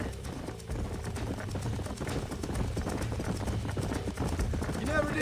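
Horse hooves clip-clop steadily and continuously in Red Dead Redemption on the Nintendo Switch, blended with other dense in-game sound throughout.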